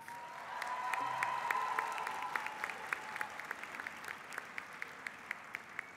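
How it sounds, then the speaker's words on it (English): A commencement ceremony crowd applauding steadily, the clapping thinning out into a few scattered, distinct claps near the end. "Let's give them a round of applause."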